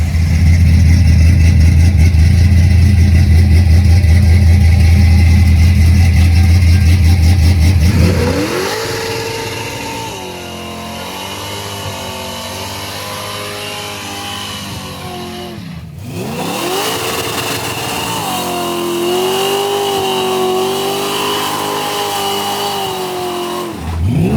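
A 1971 Ford Maverick engine idles with a heavy low rumble, then revs up hard for a burnout, rising and falling in strong sustained pulls that dip briefly before climbing again, loud and close.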